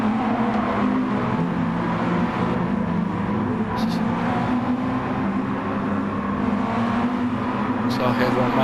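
Race car engines drone steadily as the pack brakes into a sharp right-hand corner in a circuit race, a loud, continuous engine note with slight shifts in pitch and no clear gaps.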